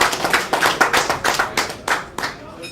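Sparse, scattered clapping from a small group at a boxing press conference in New York City, a few distinct hand claps in an uneven rhythm, close and fairly loud, fading out after under three seconds.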